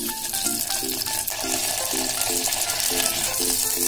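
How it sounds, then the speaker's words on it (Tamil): Brinjal fries in hot oil with a steady, close sizzle and stirring sounds, while a faint melodic tone pattern repeats in the background. "எண்ணெய் வந்து ஹீட் ஆனதும் கத்திரிக்காவை சேர்த்துடலாம்."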